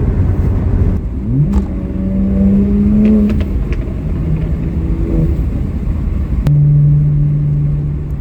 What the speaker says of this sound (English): B58 up there sounds so good.